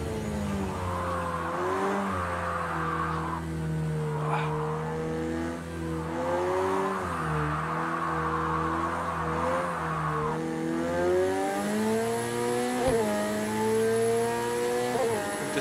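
A McLaren 720S drifts in the racing game Project Cars 2, its engine roaring steadily while revs climb and drop through shifts, with tire squeal layered over it, loud and close, and no talking.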